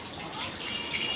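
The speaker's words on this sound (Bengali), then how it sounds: "কৌটো করে জল দিচ্ছি" Water pours steadily into a small tin container set out for a dog, making a brief, close, continuous gushing splash with no talk over it.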